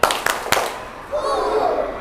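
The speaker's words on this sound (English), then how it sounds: "Clap. Three." Three sharp hand claps in quick, even succession in a classroom, followed by a group of voices talking.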